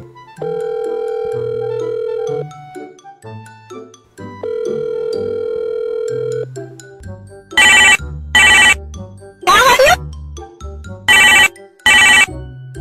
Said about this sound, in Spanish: vamos a llamar al teléfono al Harris y vamos a ver qué dice